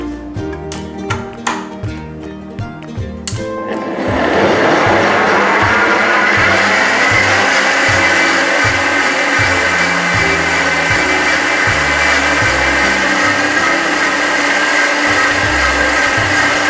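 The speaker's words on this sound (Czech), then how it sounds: "Důkladně vymixuju." A few light knocks come first as eggnog ingredients go into a blender. The motor then starts with a loud, steady whirring roar that continues to the end.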